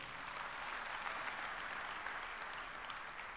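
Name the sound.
audience applause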